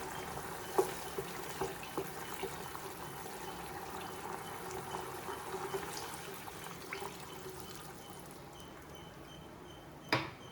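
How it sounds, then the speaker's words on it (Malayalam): A glass of milk poured into boiling water for Kerala-style milk upma, a faint continuous liquid trickle and simmer with a few small clinks of a pan, ending in a sharper knock. "വെള്ളം തിളച്ച് വരുമ്പോൾ ഇതിലേക്ക് 1 ഗ്ലാസ് പാല് ചേർത്ത് കൊടുക്കാം."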